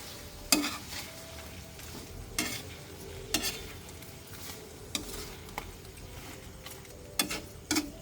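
Soy sauce being stirred into a sizzling butter garlic prawn sauce in a pan: a steady frying hiss runs throughout, broken by several sharp scrapes and clinks of the utensil against the pan, with no talking.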